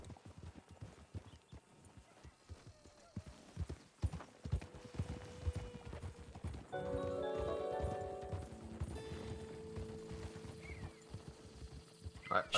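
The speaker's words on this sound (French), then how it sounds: "le bruit des sabots sur les pavés, y a rien de mieux" Horse hooves clip-clop steadily on cobblestone streets in Saint Denis in Red Dead Redemption 2, a close rhythmic clatter continuing throughout under background game sounds and music.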